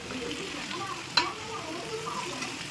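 Chicken being fried in a sautéed tomato masala for biryani produces a steady, close sizzle and stirring, with one sharp clank of a utensil against the pan.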